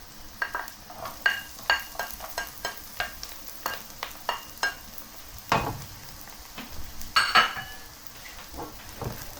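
Garlic sizzling in a pan for pinakbet, with a soft frying hiss under frequent sharp clinks and scrapes of a utensil stirring against the pan, fairly quiet and close.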